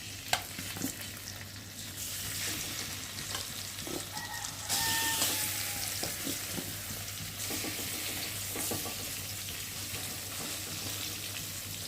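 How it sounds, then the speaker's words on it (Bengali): Rohu fish belly pieces frying in hot oil in a kitchen pan, a steady low sizzle with occasional pops and stirring clatter, no talk. "পেটিটাকে ভেজে নিই, তারপর মাথাটা পরে ভাজবো"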